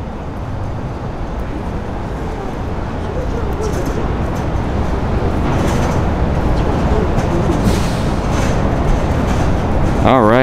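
Rumbling interior of a JR Yokohama Line train near Yokohama Station: a constant loud low roar of wheels and carriage noise that swells slightly over time, with a brief tonal sweep at the very end.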